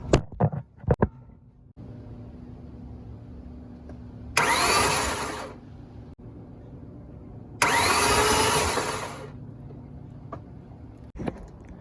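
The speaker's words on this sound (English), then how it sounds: "I'm gonna turn the key, and we're gonna make sure the belt's still spinning." An Audi S4 engine cranking in two separate bursts of a few seconds each as the key is turned, a loud whirring starter grind over a low steady hum, with a few clunks at the start and end.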